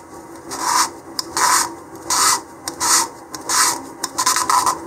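Rhythmic rasping strokes of sandpaper on a 3D-printed model rocket part near the shoulder, about eight back-and-forth passes, close and fairly loud with brief pauses between.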